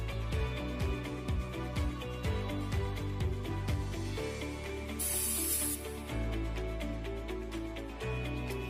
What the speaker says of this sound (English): Then one quick mist of foundation right down the center.